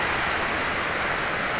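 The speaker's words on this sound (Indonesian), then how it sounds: "hari ini hujan" Steady rain falls outdoors where a red motorcycle is parked in a corner, a dense, even hiss with no talk.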